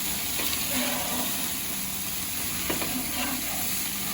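Flame-broiled hamburgers sizzle over open fire on a grill, a steady close hiss and crackle with occasional louder pops, continuous without pause.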